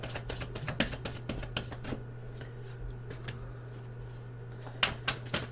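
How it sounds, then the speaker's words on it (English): Angel oracle cards shuffled by hand at a table, soft papery riffles and taps in short bursts near the start and end, quiet and close, over a steady low hum. "I'm shuffling yours now."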